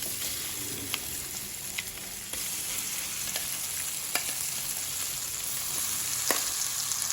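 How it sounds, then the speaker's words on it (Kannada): Ground masala for jackfruit palya fries in hot oil with a continuous sizzle, punctuated every second or so by sharp clicks of a spoon stirring against the pan. "ಈ ಮಸಾಲೆಯನ್ನು ಎಣ್ಣೆಯಲ್ಲಿ ಸ್ವಲ್ಪ ಫ್ರೈ ಮಾಡ್ಕೊಳ್ಬೇಕು"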